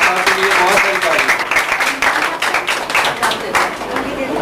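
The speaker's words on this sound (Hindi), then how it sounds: "आप के लिए बहुत सारी तालियां।" Audience applause at a youth center program in Lahore, loud close clapping from a crowd that continues steadily while a voice speaks over it.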